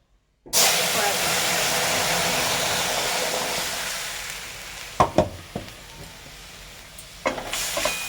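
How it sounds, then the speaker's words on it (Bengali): Pressure-cooked cauliflower and potato curry is poured into hot tempering for a rohu fish curry, setting off a sudden loud sizzling hiss that slowly fades, followed by a few clanks of the pot and stirring. "ফোড়নটা হয়ে এসেছে এবার দিয়ে দেবো প্রেসার কুকার থেকে ঢেলে দেবো"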